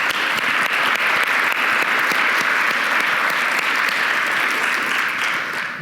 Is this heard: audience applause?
yes